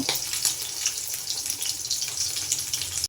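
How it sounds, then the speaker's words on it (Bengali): Fish frying in hot oil in a pan, a steady close hissing sizzle with crackling pops running continuously and no voices. "সাথে আমার এদিকে মাছ ভাজাও চলছে"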